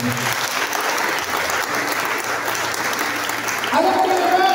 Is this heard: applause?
yes